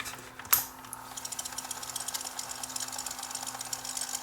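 Sanyo M7015 boombox tape mechanism straining to fast forward without new belts: a sharp click as it engages, then a steady run of faint rapid mechanical ticking and whirring against a low electrical hum.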